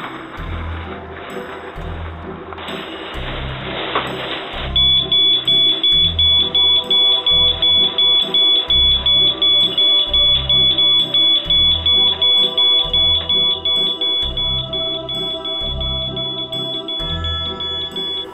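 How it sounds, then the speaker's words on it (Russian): An AJAX security alarm sounds a loud, rapid train of evenly spaced electronic beeps that runs steadily for over ten seconds, with a rougher noisy sound just before it starts. "Если мы добавим сигнализацию."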